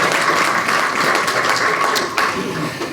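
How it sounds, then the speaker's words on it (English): A crowd at a speech claps steadily throughout, a dense wash of applause that stays fairly even before easing off slightly near the end. "I think you should give yourself a round of applause for that."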